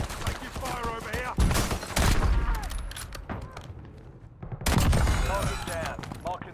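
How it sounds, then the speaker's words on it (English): Rapid gunfire bursts in a military shooter video game, loud and close, with dense overlapping shots and booms alongside game voices. "Enemy dropping into the AO. Taking fire over here."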